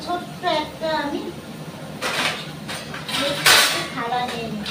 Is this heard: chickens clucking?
no